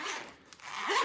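A single quick zip as the reversed zipper on a Vosteed knife pouch is pulled open, close and crisp, rising briefly and then sliding through to the end.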